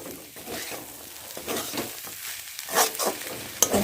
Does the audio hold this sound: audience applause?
no